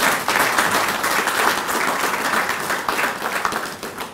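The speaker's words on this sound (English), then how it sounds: "And let's give Sharmila a big round of applause." Sustained audience applause fills a corporate ceremony for a mining company CEO, a dense, steady wash of many hands clapping at even loudness from start to finish.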